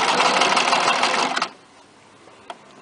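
A sewing machine stitches the curved seams of a cold-shoulder long gown, a close, steady rapid whirring that runs for about a second and a half, then stops, leaving quiet with one small click.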